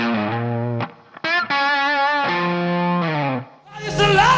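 Distorted electric guitar playing a blues lick, loud and close, with sustained bent notes, quick slides and short breaks between phrases.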